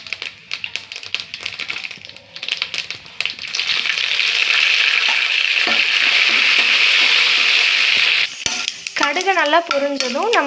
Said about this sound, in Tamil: இதில் கடுகு, உளுத்தம்பருப்பு, கடலைப்பருப்பு, காஞ்ச மிளகாய், கருவேப்பிலை எல்லாம் போட்டு நல்லா தாளிச்சுக்கிறோம்.